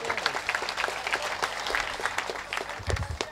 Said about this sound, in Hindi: इस सम्मान को हम सब लोग तालियां बजाकर स्वीकार करते हैं